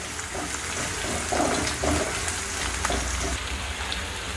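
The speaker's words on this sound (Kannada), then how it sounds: "ಈರುಳ್ಳಿ ಒಂದು ಸ್ವಲ್ಪ ಫ್ರೈ ಮಾಡ್ಕೊರೋಣ್ರಿ" Onion frying in hot oil, a steady broadband crackle with faint splashy bursts near the pan, no voices.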